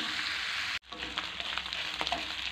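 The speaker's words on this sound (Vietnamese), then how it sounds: "Đây, mình xào gần được này" Pig ear with lemongrass and chili stir-frying in a hot pan, a steady close sizzle with scraping stir noises after a brief break near the start.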